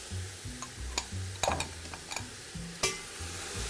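Pork sauté with whole-grain mustard stirred in a pan, a spoon scraping and clinking against the pan over a low sizzle, close and fairly quiet.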